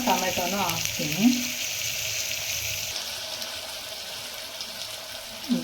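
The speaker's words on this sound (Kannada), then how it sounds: "ಇದೆಲ್ಲ ಪೂರ್ತಿಯಾಗಿ ಫ್ರೈ ಆಗಲಿ." Vegetables with field beans and tomato sizzle in a pan for pasta, a steady moderate frying hiss throughout, with a brief voice and a few clatters near the start.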